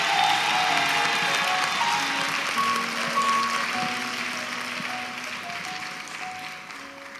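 Large audience applauding and cheering in praise of the Lord at a ceremony, a steady, dense wash of clapping and voices that holds throughout and fades slightly toward the end.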